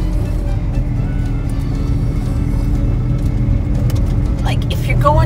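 A 1986 Ford Ranger stick-shift pickup drives in second gear, its engine a steady, loud low rumble filling the cab, with a little road noise and brief faint higher sounds near the end.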